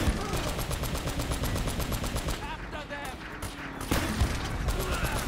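Rapid bursts of gunfire from a golden pistol in Uncharted: Drake's Fortune, dense and loud with repeated shots and game sound effects. A player talks over the shooting.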